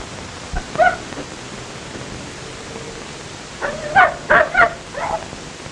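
A dog named Wolf barks in a 1940 desert adventure film, one short bark followed after a pause by a close burst of four quick barks over a steady hiss, with no talk.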